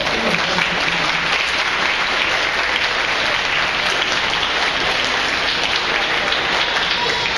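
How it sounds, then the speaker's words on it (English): Steady, dense applause from an eighth grade ceremony audience in a school gym, honoring the parents, continuous and full for several seconds, with faint voices mixed in. "So we should give a round of applause to your parents for the support they showed you."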